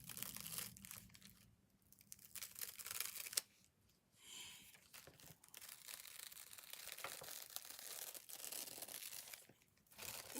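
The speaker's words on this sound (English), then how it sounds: "And then I will just peel that back, and there is the card" Adhesive backing is peeled off a card used for flower arranging, giving crinkly tearing and crumpling rustles in bursts with short pauses, fairly quiet and close, with no voice.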